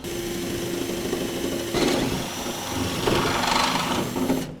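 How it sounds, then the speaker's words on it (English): A power drill bores holes through a 2011 Chevrolet Silverado truck bed for safety chain tie-downs during a gooseneck hitch install, a steady close whine with two louder surges as the bit bites, no talk. "drill out the chain tie downs"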